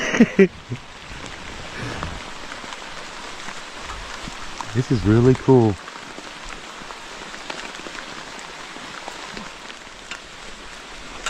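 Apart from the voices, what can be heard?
rain falling on a tent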